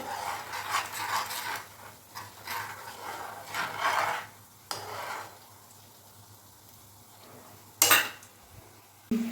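Shukto vegetables frying slowly in a pan over low heat, with bursts of sizzle and scraping, clattering utensil strokes that come and go, then quieter stretches and a sharp clank near the end.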